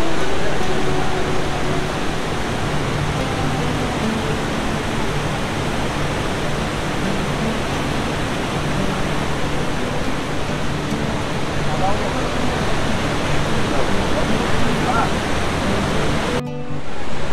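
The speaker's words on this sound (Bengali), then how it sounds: "এখন কিন্তু গোটা জায়গাটা এদিক থেকে এদিক পর্যন্ত পুরো জায়গাটা জুড়ে জল পড়ছে।" Dassam Falls roars loud and steady, with water pouring across the full width of the falls. The dense rushing wash continues without a break and almost fills the scene.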